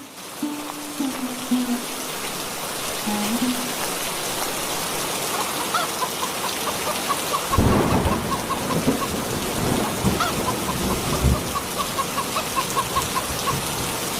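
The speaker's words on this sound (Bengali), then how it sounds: "এই যা, বৃষ্টি যে শুরু হয়ে গেল" Steady rain pours down outdoors at the start of a downpour during garlic planting, a dense hiss throughout, with a loud thunder crack and rumble about halfway through and faint low tones early on.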